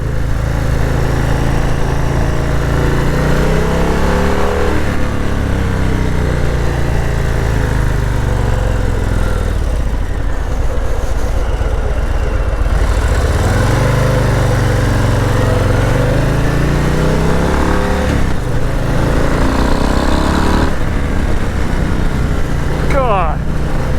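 A 2022 Harley-Davidson Low Rider S with its 1250 engine drones steadily while being ridden, a loud continuous rumble that rises and falls with throttle, with wind noise and a rider talking over it.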